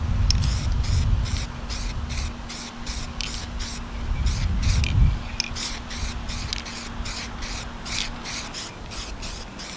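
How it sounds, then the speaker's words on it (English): Repeated short hissing bursts from a spray can painting a Reuleaux DNA200 vape mod, close and loud, alternating with rubbing noises and a low rumble underneath. "now we're going to spray it one more time"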